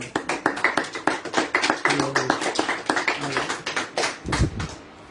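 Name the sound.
congregation applauding the Lord in church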